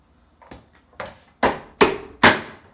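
Five sharp, hollow whacks of a manual plunger food chopper chopping food finely, spaced about half a second apart and growing louder and heavier with each strike, close by with no talk.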